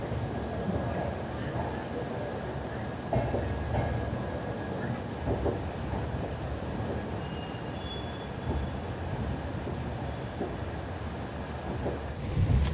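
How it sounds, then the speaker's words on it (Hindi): Train 22997 Jhalawar City - Shri Ganganagar pulls out of Lalgarh Junction at night, its wheels rumbling steadily on the rails with a continuous low roar, rhythmic clatter and faint voices in the background. "इस ट्रेन का लालगढ़ जंक्शन पर सिर्फ 2 मिनट का हॉल्ट होता है, और 2 मिनट रुकने के बाद हम यहाँ से निकल चुके हैं।"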